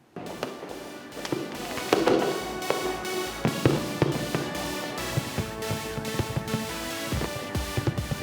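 New Year's Eve fireworks pop and crackle in a dense, irregular barrage of sharp bangs and snaps, some loud and close, others fainter, continuing steadily without pause.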